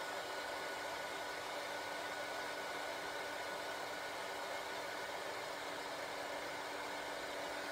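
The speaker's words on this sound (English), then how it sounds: "I'm just holding the heat tool in one place until the embossing powder melts" A heat embossing tool runs steadily, melting embossing powder on a card-making project; a constant, fan-like blowing hum with a faint tonal whine, unbroken and close.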